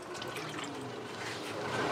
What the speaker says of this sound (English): They pour it all from that barrel.